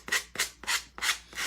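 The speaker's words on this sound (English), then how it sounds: "let's get all this sanded off" Five rhythmic strokes of sandpaper rubbing across scrapbook paper edges on a pumpkin, a dry scratchy rasp repeating about every third of a second, close and fairly loud.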